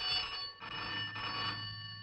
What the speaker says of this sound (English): Phone, Dr. Beaker.